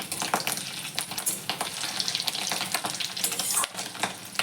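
Fish roe fritters, made from fish eggs, fry lightly in hot oil in a home kitchen pan, giving a steady close sizzle broken by sharp spitting pops and occasional stirring clatter.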